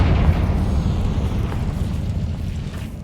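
A fire-blast Confringo spell in Hogwarts Legacy erupts in a cavern as one loud, close, rumbling explosion with a heavy low boom that fades slowly over a few seconds.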